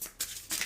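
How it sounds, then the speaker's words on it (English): A deck of oracle cards is shuffled in two quick, soft riffling bursts, close and quiet, with no voice over them. "I'm just going to shuffle"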